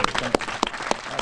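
An audience claps at a charter school event in Wilmington, a short burst of scattered, distinct hand claps at moderate loudness.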